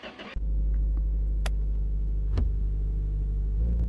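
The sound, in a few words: Niva car engine driving in a car mechanic video game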